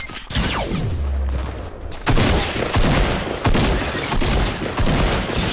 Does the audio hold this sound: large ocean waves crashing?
no